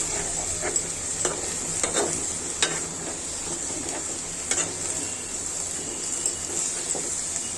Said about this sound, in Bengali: পাঙ্গাস মাছ দিয়ে ডাটা শাকের আগাগুলো রান্না করে নিচ্ছি